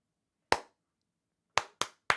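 Hands clap four times indoors, one sharp clap followed after a pause by three quicker ones, crisp and isolated against silence.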